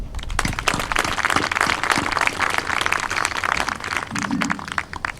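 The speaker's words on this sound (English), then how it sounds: "Please join me in a round of applause for these outstanding leaders." A loud, sustained round of applause rises from the audience at a military leader course graduation, crisp individual claps standing out within the dense clapping.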